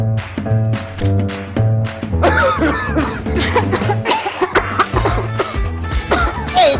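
Stubborn, heavy coughing comes in repeated loud bursts, close up, first over a musical jingle in a cough medicine advert and then continuing in rough fits.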